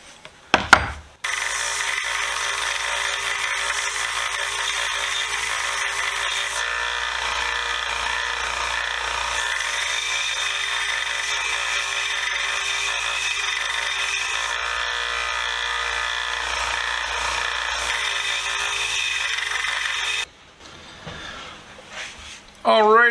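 A 1x30 belt sander grinds pitting off a Crowder wrench, a steady loud abrasive whine and rasp held for about twenty seconds before stopping, with brief handling noises at the start and end.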